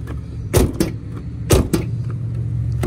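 A Ford Excursion door is shut twice, each close with a heavy thump followed by a rattling secondary knock, set against a steady low engine idle.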